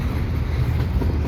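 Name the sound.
model train, CPKC Intermodal 119, on a layout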